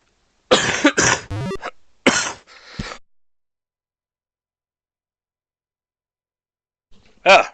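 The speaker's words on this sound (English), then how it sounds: "early morning coughing fits" A character in the game Space Quest: The Lost Chapter coughs several times in quick succession, harsh and close, then silence before another short cough at the end.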